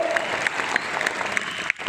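An indoor audience at a business seminar clapping, dense rapid applause filling the room with a brief dip near the end.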